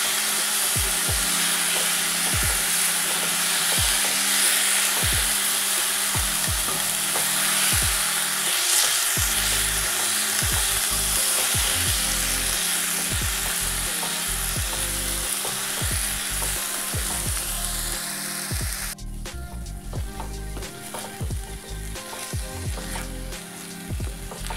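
Taro leaves fry in a pan while being stirred, giving a loud, continuous hiss of sizzling with repeated scraping and knocking of a spatula, close up, the sizzle dropping somewhat softer toward the end.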